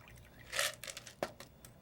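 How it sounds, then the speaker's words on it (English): A dry martini strained and poured into a chilled martini glass: a short, soft splash of liquid with light trickling, then a sharp clink near the end, close and quiet. "Put on your strainer, put it flush against the edge into our chilled martini glass."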